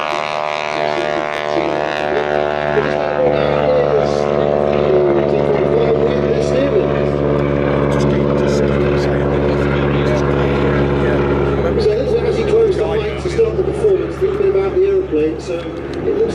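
A propeller aircraft, an F4F Wildcat, flies an airshow display, its engine drone a steady loud harmonic hum that shifts pitch as it passes, with a commentator talking over it throughout.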